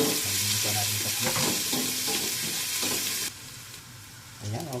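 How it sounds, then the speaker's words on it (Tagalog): Ginger dropped into hot cooking oil hisses with a loud, steady sizzle and some stirring clatter, then eases to a softer fry before flaring again at the end. "Mantika, mainit na. So, lagyan natin yung luyang muna."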